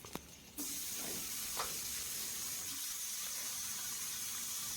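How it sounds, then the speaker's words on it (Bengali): Chopped garlic dropped into hot mustard oil bursts into a sudden loud sizzle after a brief click, then holds as a steady close hiss with faint crackles. "তেলটাকে ভালো করে গরম করে নিতে হবে। তারপরে দিতে হবে রসুন কুচি।"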